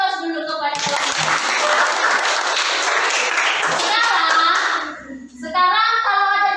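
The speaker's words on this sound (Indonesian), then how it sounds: "Kasih aplaus dulu kepada kelompok." Classroom applause for a presenting student group: a burst of many hands clapping, loud and even for several seconds, with speech just before it and again as it dies away.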